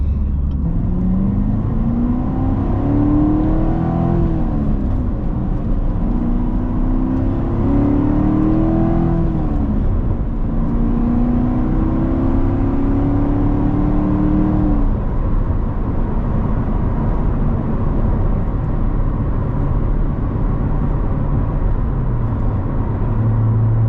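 Manual Corvette C7 Z51 cruising in seventh gear on an early morning drive, its engine a steady low drone with a few rising and falling rev sweeps over the first fifteen seconds, then settling into a constant hum.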